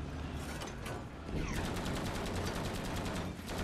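Rapid bursts of gunfire in the Battlefield 5 video game on the Arodrome map, dense and continuous, with a sharp mechanical rattle and repeated close shots running through most of the stretch.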